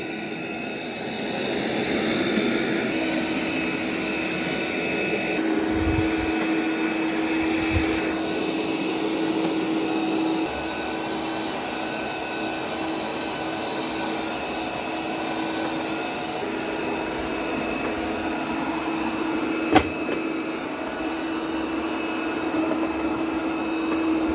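A Roomba robot vacuum runs, vacuuming in straight lines, with a steady whirring motor hum, a continuous mechanical drone with a faint tonal whine and no talking.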